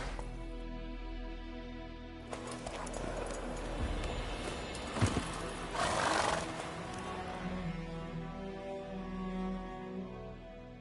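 Roach, a horse in The Witcher 3, whinnies loudly and clops along over a steady low game-world background, with the neigh rising clearly in the middle and hoofbeats continuing after it.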